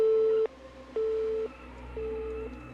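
Three tones of a telephone busy signal after a line goes dead, each a steady beep of about half a second with gaps between, close and clear over a faint hum.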